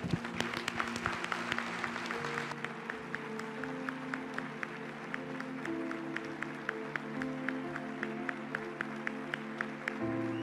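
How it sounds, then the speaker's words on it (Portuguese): Congregation in a church service clapping, with a first burst of dense applause that gives way to steady rhythmic claps in time over sustained music, fairly soft and distant. "Aplaude ele bem forte"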